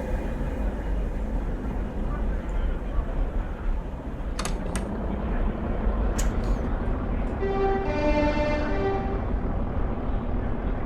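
A diesel railcar pulls away in the Diesel Railcar Simulator video game: a low engine rumble throughout, a few sharp metallic clicks midway, then a brief tonal horn-like sound near the end.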